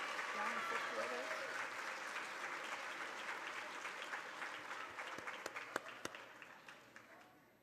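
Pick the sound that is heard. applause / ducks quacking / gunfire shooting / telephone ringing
applause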